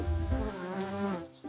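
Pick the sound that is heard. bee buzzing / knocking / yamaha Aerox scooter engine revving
bee buzzing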